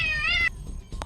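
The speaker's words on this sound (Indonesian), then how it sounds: "Ternyata kucing kecil" A small cat lets out a clear, fairly loud meow with a rising, wavering pitch lasting about half a second, followed by a faint second cry.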